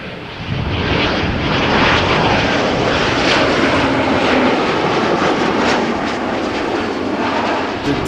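A German Airways jet in Leysieffer chocolate special livery at Amsterdam Schiphol, a loud, dense engine roar swelling in after a brief lull and holding steady and close for several seconds before easing slightly.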